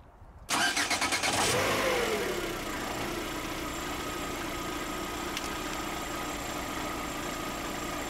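A car's starter cranks briefly with a rapid pulsing churn, then the engine catches and settles into a steady idle that continues to the end, loud and close, with no voices.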